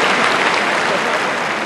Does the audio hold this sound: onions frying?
no